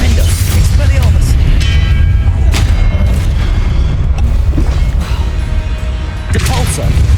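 Spell effects from Hogwarts Legacy, an Expelliarmus cast among other combat spells, producing booming, crashing impacts over a dense low rumble, with a few sharp bursts spread through the stretch.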